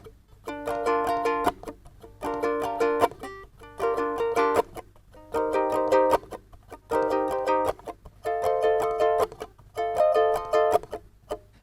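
A ukulele strums verse chords in a steady chunky down-up pattern, with seven bright repeated strum groups evenly spaced, close and clear with no voice.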